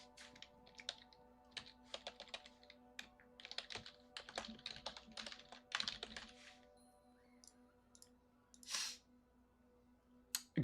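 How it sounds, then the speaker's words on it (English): Fingers type on a computer keyboard at a trading desk: quiet, close, uneven bursts of light key clicks, a flurry of rapid strokes then sparser taps and a soft thud, with no talk. "I'm literally typing into the screen there"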